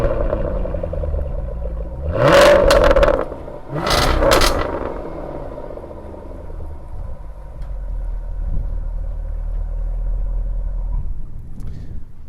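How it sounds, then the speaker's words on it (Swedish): A 2021 Jaguar F-Type P450 V8 starts with a loud bark and then blips twice in sharp, close revs before settling into a deep, steady idle rumble. "Så om jag ber Pavel att starta motorn så ska vi lyssna på något väldigt vackert."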